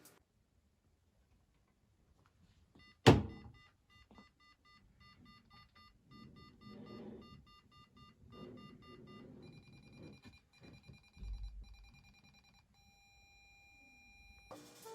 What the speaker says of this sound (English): we will be able to be alerted by the buzzer if a certain object is in the vicinity of the sensor